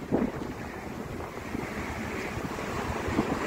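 Strong wind roars steadily and buffets the microphone ahead of rain, a constant rushing noise with no talking, in Doha.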